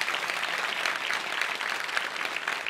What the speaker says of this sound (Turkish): Ama daha güçlü alkış lütfen.